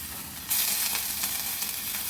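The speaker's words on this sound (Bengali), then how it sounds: "কালো জিরের সাথে আমি একটু এলাচ ফোড়ন দিয়ে দিচ্ছি।" Black cumin and cardamom seeds splutter in hot oil for a Bengali koi fish curry, a bright crackling sizzle that bursts in suddenly and stays loud with small pops.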